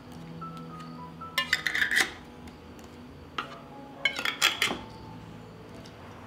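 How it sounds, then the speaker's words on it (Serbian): New lids are fitted and screwed onto glass jars. Bursts of scraping, rasping metal-on-glass twisting come in two main groups with small clicks between them, close and without speech. "I na kraju tegle zatvaram sa čistim i novim poklopcima."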